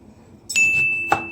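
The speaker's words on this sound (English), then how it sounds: "hit that notification bell" A notification bell sound effect rings out twice: a clear, bright ding, then a second sharper strike about half a second later, its pure tone lingering and fading over a quiet background.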